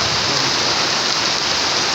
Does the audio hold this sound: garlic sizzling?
no